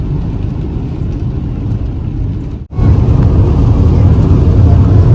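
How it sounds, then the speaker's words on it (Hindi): Steady loud road rumble and rain-driven hiss inside a car on a freeway in a heavy downpour, a continuous roar that briefly cuts out mid-way before returning even stronger. "बाहर से तो कुछ भी नजर नहीं आ रहा, इतनी तेज बारिश हो रही है और मैं ना इस वक्त फ्रीवे पे आ चुकी हूँ"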